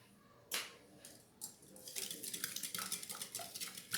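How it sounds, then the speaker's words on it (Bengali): Egg is whisked with oil and sugar in a bowl: a couple of isolated clinks, then a quick run of rhythmic taps and scrapes of the utensil against the bowl, close and fairly quiet. "ডিমটা একটু ফেটে নেব তেলের সঙ্গে।"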